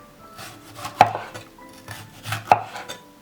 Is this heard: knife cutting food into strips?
yes